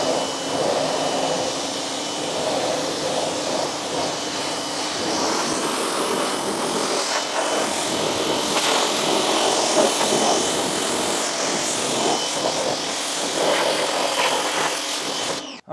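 A pressure washer rinses a car wheel and tire with a continuous hissing spray, steady and close, with slight shifts in tone as the jet moves across the surface and a brief cutoff at the end.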